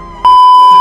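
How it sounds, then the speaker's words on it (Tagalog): A two-way motorcycle alarm on a Raider 150 Fi gives one loud, piercing electronic beep when locked, ringing steadily close by. "Ito yung lock ng alarm natin."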